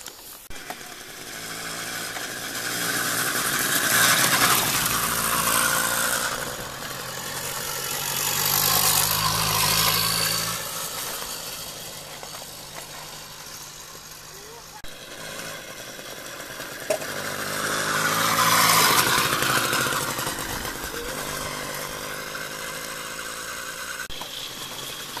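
A Riga 13 moped's small engine running close by, revving up and down in slow surges over a steady idle, loud and rough.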